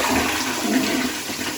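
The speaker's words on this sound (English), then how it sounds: "Good flush on it." A freshly repaired toilet flushes with a strong rush and gurgle of water, loud and close, with no one talking.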